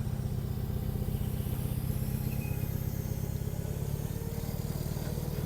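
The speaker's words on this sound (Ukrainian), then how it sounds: "Далі їде тракторець середньої бази Кубота GT23." A Kubota GT23 compact tractor, a 23-horsepower machine, chugs past with a steady low diesel drone, its rhythmic engine pulse holding even and fairly close throughout, with no voices over it.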